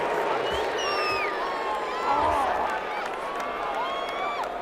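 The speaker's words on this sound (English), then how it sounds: "This home crowd, they're happy with that call." A simulated stadium crowd in the Madden 21 football game, Cowboys versus Vikings, roars and cheers in a continuous swell with whoops and whistles, while voices speak over it.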